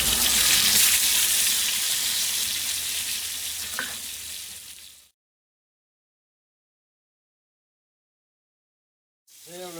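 Herrings held in fish clamps grill over a barbecue, a loud, dense, continuous sizzle and crackle of fat close by that fades out into silence, then briefly returns.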